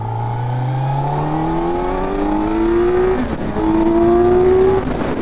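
A 2025 Kawasaki Z900 motorcycle accelerates hard through the gears, its engine note climbing steeply, dropping briefly at a shift, then rising loud and close again, with no speech.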